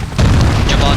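A loud, dense explosion from the Splinter Cell video game, set in the Chinese Embassy mission, booms and rumbles continuously after a brief quieter moment at the start.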